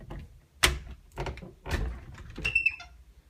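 Storage closet door in a Minnesota summer home being opened: a few sharp knocks and handling thumps followed by a brief creaking squeak, close and alone.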